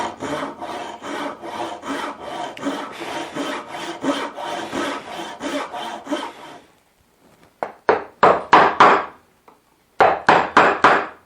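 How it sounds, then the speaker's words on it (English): Hand saw cutting half-blind dovetail sockets in wood, with a long run of rapid, even rasping strokes, a brief pause, then short bursts of sharper strokes, close and loud with no voices. "I'm going to cut these just like I would any half-blind dovetails in a drawer"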